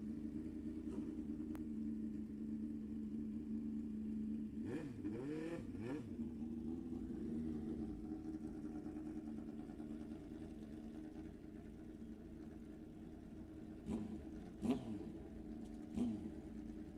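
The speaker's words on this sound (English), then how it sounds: "The ZX14 Kawasaki. The GSXR Suzuki over here for Bruce Lee." At an NHRA drag race, a Kawasaki ZX14 and a Suzuki GSXR motorcycle drone at a steady low idle, with a few sharp rising revs standing out at intervals, heard from some distance.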